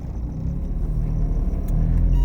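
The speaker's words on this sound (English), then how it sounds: "I'm driving along in my car." Steady low rumble of a car engine and road noise from inside the cabin, continuous and fairly loud, with no talking.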